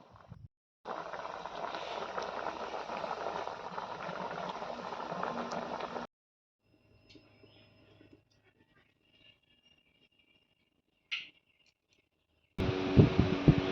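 Lentil dal tempered with spices boils in a pot, a dense steady bubbling that runs for several seconds and then stops. Faint clinks and quiet handling noises follow, and a brief burst of bubbling returns at the end.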